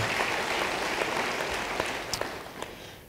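A church congregation applauds a pastor during a worship service, a steady wash of clapping that holds for several seconds and then thins out toward the end.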